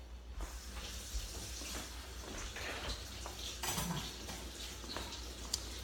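A metal spoon scrapes and scoops the soft flesh out of an avocado for a cucumber, avocado and tomato salad, with quiet, close scraping and a few light clinks.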